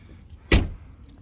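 Keys are pulled from the ignition of a Range Rover parked on a snowy road: a single short metallic jangle and click, close and brief, against a faint low hum.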